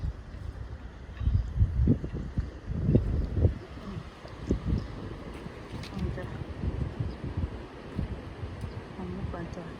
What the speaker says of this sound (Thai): บรรยากาศท่าเรือนะจ๊ะเนาะ